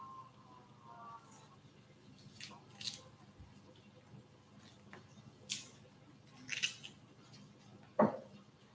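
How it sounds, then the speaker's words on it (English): A knife chops two scallions on a kitchen board, giving a few soft, scattered cuts spaced irregularly over a quiet room with no talking. "So the sounds you hear me chopping 2 scallions."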